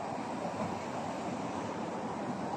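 Soft, continuous wash of surf at a beach at low tide, steady and moderately distant with some wind across the microphone, no talking.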